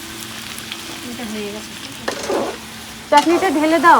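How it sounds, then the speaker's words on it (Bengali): Spice masala fries in a pan during home cooking for a family gathering, a soft steady sizzle running under close conversational voices. "এখানে মশলা কষানো হচ্ছে"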